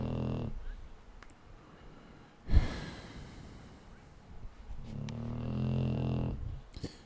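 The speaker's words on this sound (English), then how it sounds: "my legs propped up on a dog that is snoring like a freight train" A dog lying on a couch snores, slow rough breaths with a louder snort midway and another long rumbling snore near the end, fairly close and otherwise quiet.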